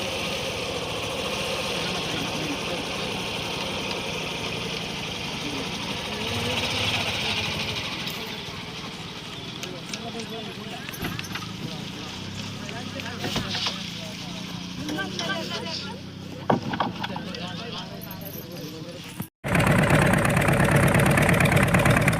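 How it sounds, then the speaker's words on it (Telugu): A motor boat departing from Rudramkota toward Ponavaram gives a steady engine drone with water wash, voices talking over it, and a sudden louder, rougher engine roar near the end. "మా పడవ అయితే బయలుదేరింది ఫ్రెండ్స్."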